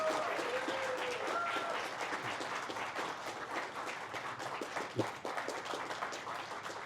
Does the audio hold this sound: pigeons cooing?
no